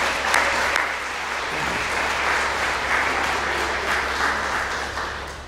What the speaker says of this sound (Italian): Iniziamo con un bel applauso